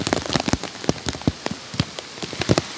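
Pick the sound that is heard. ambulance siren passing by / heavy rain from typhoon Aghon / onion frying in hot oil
heavy rain from typhoon Aghon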